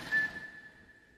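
A thin, steady whistle tone carries on at low volume after a brief, slightly stronger start, heard in a game engine demo as a griffin comes closer, with faint low rumble beneath.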